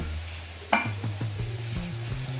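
Butter sizzling in a frying pan with pork and mushrooms: a continuous close hiss under a low hum, with a sharp clink of a utensil against the pan followed by a few softer taps and stirring scrapes.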